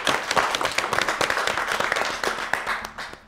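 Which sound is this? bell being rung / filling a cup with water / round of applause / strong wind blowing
round of applause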